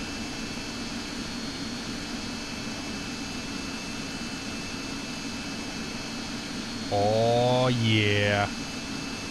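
Steady whining drone of an MD-80 jet engine in a flight simulator game, constant and moderate throughout, with a short spoken remark near the end.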